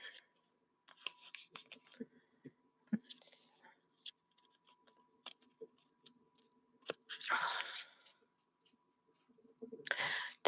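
Scissors snip through paper for a golden book junk journal. The cuts are close and fairly quiet, coming in a few short bursts with pauses between them, and a soft voice murmurs alongside.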